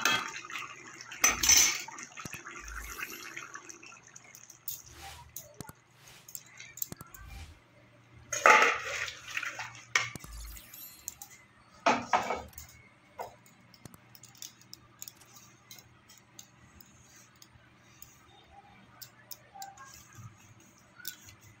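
A pot of potato and pointed gourd posto being lifted off the stove, with scattered metallic clanks and clinks of pots and utensils over a quiet kitchen background.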